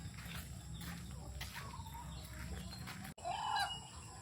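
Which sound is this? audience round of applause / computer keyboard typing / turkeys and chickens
turkeys and chickens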